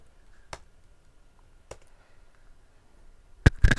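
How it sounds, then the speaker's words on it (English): Sparse, sharp mouse clicks during data cleaning in R, three isolated single clicks spaced over a few seconds, then a quick cluster of louder clicks at the end, fairly close and otherwise quiet. "I'm going to click on view,"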